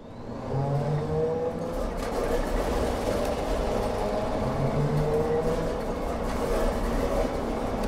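A Dornier Do X flying boat engine starting in Microsoft Flight Simulator, a loud rumbling and rising mechanical drone that spins up after the first second and holds steady throughout.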